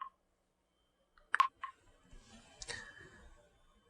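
A few soft, isolated clicks from a smartwatch interface button in a virtual reality science lab, faint and close against near silence.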